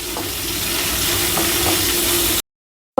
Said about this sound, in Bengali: আর এদিকে পেঁয়াজের বেস্তা করে নিচ্ছি আর একটু চুলাই দিয়ে দিচ্ছি